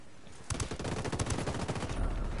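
Rapid automatic gunfire in a video game rattles off in a loud, close, continuous burst of quick repeated shots lasting about two seconds, with no voices over it.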